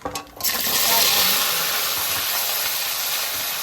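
Taro stolons (kochur loti) hit a hot cooking pan with a sudden loud sizzle that settles into a steady, close hiss after a brief clatter.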